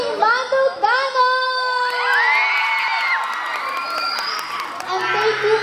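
Supporters at a pageant cheer and shout in high, excited voices, with children's yells and whoops rising and falling loudly, joined by scattered applause.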